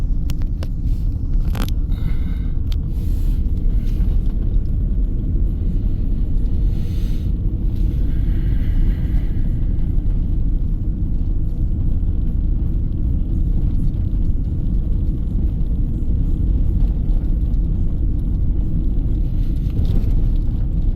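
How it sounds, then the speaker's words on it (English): A car drives along a country road, giving a steady low rumble of engine and tyres that holds evenly throughout, close and unbroken, with a few faint clicks and knocks inside the cabin. "We're gonna have a little drive in the country."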